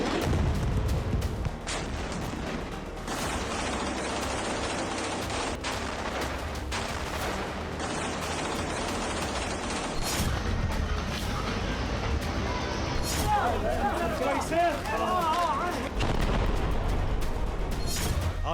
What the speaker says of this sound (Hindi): दक्षिणी गाजा में फास्फोरस बम से विस्फोट शुरू हो गया है